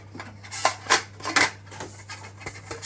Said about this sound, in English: I've got to grease the inside of this tin quickly